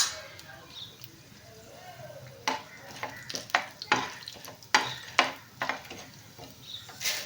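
Chana dal and urad dal dry-roasting in a small pan, with a soft sizzle and a run of scraping, clinking stirring strokes that grow busier partway through.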